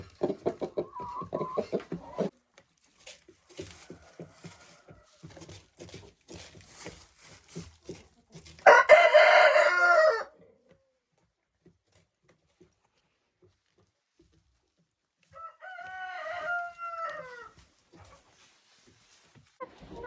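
Farmyard hens cluck in short, rhythmic bursts up close, followed by a loud rooster crow, a long quiet stretch, then a second series of clucks and calls from the flock.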